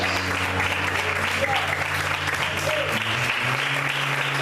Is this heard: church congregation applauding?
yes